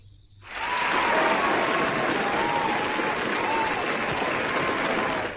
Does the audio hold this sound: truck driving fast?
no